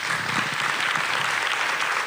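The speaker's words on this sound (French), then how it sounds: "On vous applaudit." Audience in a hall applauding the speakers at the end of a panel talk on proselytism and religion, a continuous dense roar of many hands clapping at even loudness from start to finish.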